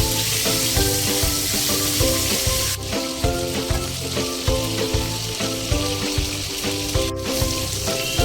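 Tilapia fish fry in hot oil in a pan, giving a loud, constant sizzle and crackle close up, with a faint clink of a utensil partway through and no talking.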